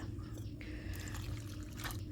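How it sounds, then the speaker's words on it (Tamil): Hot water is poured into a lemon and tea powder mix being prepared as a bathroom cleaner, giving a close, steady trickling and splashing pour with a few drips, no talking. "கொஞ்சம் சுடு தண்ணியை ஊற்றி மிக்ஸ் பண்ணிக்கிறேங்க"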